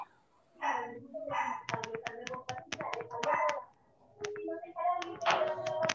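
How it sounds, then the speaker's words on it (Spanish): A small dog yaps in rapid, sharp bursts, pausing and starting again, while a voice talks at moments in between. "porque se escucha un perrito."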